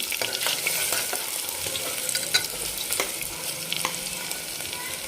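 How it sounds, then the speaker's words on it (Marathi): Puffed mutton fat is stirred in a pan for a spicy mutton curry, giving a constant crackling sizzle broken by regular scraping strokes of a spoon. "छान अशी फुगलेली आहे फक्त एक मिनिटभर आपल्याला परतून घ्यायची ते अशा पद्धतीने"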